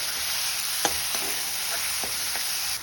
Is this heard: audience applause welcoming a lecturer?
no